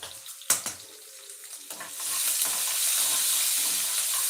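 Onions sauté in a pan for a drumstick-leaf rice dish, starting with a few sharp clanks and stirring scrapes, then settling into a loud, steady, close sizzle with no talking.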